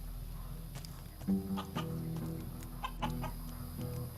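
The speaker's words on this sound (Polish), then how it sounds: "No kurczaki." Chickens in the video game Risen cluck in short, scattered bursts over a quiet low hum, a few louder clucks in the middle and more toward the end, faint and somewhat distant.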